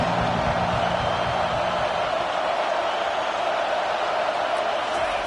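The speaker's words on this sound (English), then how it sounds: "Decibels rising as the crowd gets behind this defense on third down." A college football stadium crowd roaring loudly for the defense on third down, a dense steady wall of noise that holds at full volume throughout.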